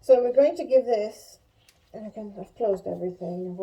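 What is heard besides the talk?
No everyday noises stand out.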